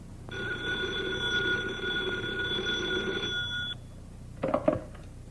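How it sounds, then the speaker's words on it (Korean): A telephone rings as a sound effect in a Korean radio drama: a steady electronic ring lasting about three seconds stops, then a brief clatter follows as the receiver is picked up. "장택상은 즉시 조병옥한테 전화를 걸었다."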